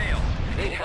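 Artillery units open fire in the Star Wars space strategy game Awakening of the Rebellion, a dense burst of booming, crackling blasts layered close together in a short loud barrage.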